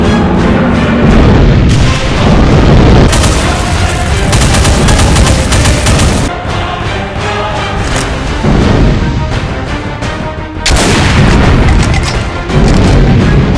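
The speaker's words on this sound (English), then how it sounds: "A spread of cannonball shots." A Cyberdemon in a Doom mod fires spreads of cannonball shots, loud booming blasts crashing in dense, overlapping bursts with brief lulls between volleys, no voices present.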